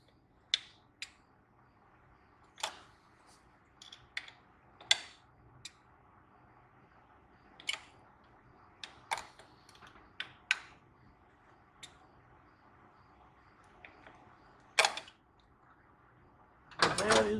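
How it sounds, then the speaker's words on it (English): A torque wrench tightens the bolts on a TPI intake of a 1989 Trans Am, giving sharp, isolated clicks spaced a second or two apart over quiet, and ending in a louder burst of metallic noise. "Again with my torque wrench."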